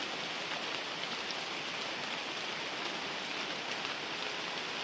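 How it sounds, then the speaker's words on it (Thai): Steady rain pours down, a dense even hiss of drops hitting surfaces close by, with no voices or other sounds. "ฝนตก"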